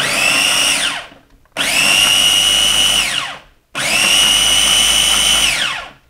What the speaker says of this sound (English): Going to cap our little food processor, and we're just gonna give this a couple of nice pulses.